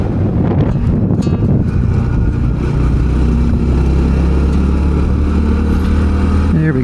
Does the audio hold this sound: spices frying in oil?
no